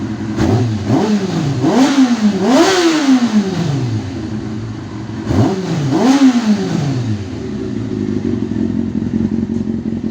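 A warmed-up 1998 Kawasaki ZX-6R motorcycle engine revs hard in two bursts of rising and falling whines, then settles into a steady loud idle.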